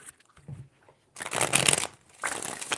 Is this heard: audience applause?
no